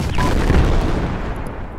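Loud gunfire and booming blasts in the military video game Project Reality fill the moment with a dense, rolling burst of shots that slowly thins out.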